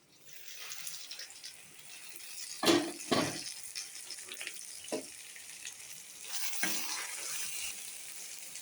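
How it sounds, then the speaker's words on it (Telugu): Meal Maker biryani mixture frying in a covered pan, a steady soft sizzle with a few louder clatters and scrapes of stirring and lid handling scattered through, no talking. "బాగా కలుపుకొని మూత పెట్టేసి 2 మినిట్స్ బాగా ఫ్రై అవనివ్వాలి"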